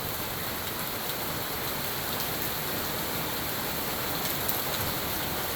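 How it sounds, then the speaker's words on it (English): Heavy thunderstorm downpour in Lancaster, California, a dense, continuous roar of rain pounding surfaces close by, steady and loud throughout with no talking. "slamming downpour"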